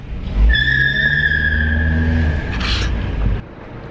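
A small, go-kart-like car drives past with a sustained engine drone and a long, high tire squeal as it skids, ending with a brief burst of noise before cutting off.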